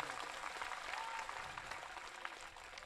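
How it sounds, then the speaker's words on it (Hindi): Quiet, diffuse clapping from an audience at a Hindi religious gathering, steady and distant-sounding throughout. "ताली बजा सकते हैं आप लोग।"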